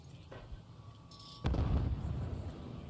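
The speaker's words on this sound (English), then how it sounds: "Nice nade there from Atlanta FaZe." A grenade blast in a competitive Call of Duty match, one sharp explosion partway through followed by a rumbling decay over faint game background noise.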